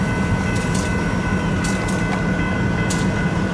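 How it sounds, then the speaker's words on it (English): Freight train cars roll free into a rail yard in Fremont, Nebraska, giving a steady low rumble with faint intermittent clanks and squeals at a distance, and no voices. "he just let two cars free roll into the yard there"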